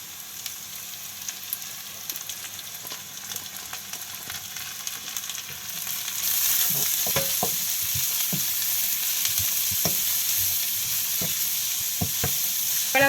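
Thinly sliced carrots and leeks sauté in a pan for egg noodles, a steady hiss that swells louder midway, with occasional spatula scrapes and taps close by.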